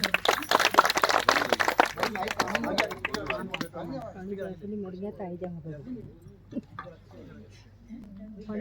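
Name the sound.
audience applause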